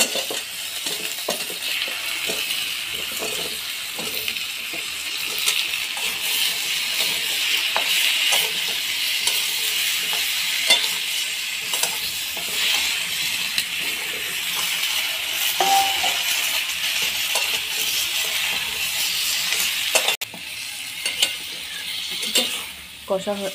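Cut taro with turmeric and chili powder fries in a pan for a goat-fat and taro dish, a constant loud sizzle broken by frequent scraping and clinking of a utensil against the pan, with no voices.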